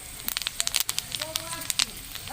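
Dried red chilli, bay leaf, panch phoron and black mustard seeds sizzle in hot oil, crackling and popping in quick, uneven bursts close by, with a voice speaking over the frying.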